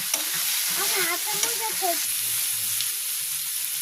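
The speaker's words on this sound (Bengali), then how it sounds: "সুন্দর করে তেলটা ছেড়ে দিচ্ছে, সুন্দর করে কষিয়ে নিতেছি" Spice masala frying in oil in a village kitchen gives a steady, close sizzle with stirring underneath, and a faint voice is briefly heard early on.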